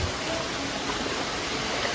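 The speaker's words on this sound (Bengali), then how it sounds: "মুষলধারে বৃষ্টি হচ্ছে ঝড়ের সাথে" Heavy rain pours down during a storm, a dense, steady hiss of falling water heard continuously without pause.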